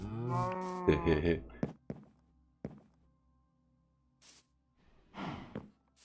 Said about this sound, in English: Cow, cow. Hello, Mr. Cow.